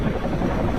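Helicopters flying overhead during a military operation in the Jalisco mountains, a loud, steady rotor roar filling the short moment with no talking.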